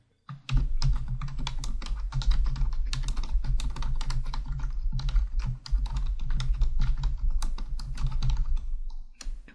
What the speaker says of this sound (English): Whatever you want to type